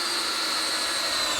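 A power drill whines steadily up close while driving screws into wood for a guillotine-style pig trap door, one continuous high buzz with no talk.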